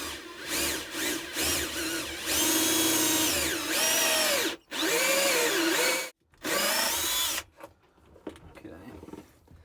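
A power drill bores a pilot hole on a solar-powered sailboat in several loud, close bursts. The motor pitch rises and falls between short stops, then fades to quieter handling noises near the end.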